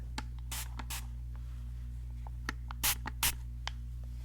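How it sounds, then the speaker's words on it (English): Two short bursts of perfume spray onto a cotton pad at a perfume counter, close and crisp, with light handling taps and scratches between them over a steady low hum. "Let me just spray some on my cotton pad here."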